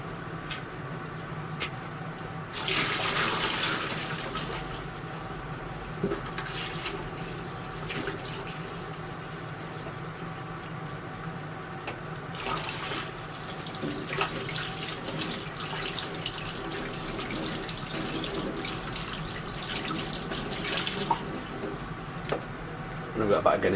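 Tap water runs continuously into a sink while soap is rinsed off dyed feathers, a steady close splashing hiss with brief louder gushes. Soft background noise sits beneath it.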